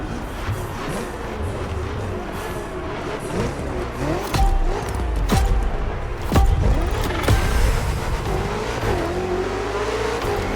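A BMW from The Crew Motorfest video game drives along, its engine note rising and falling through gear changes with steady road and wind noise, loud and continuous throughout.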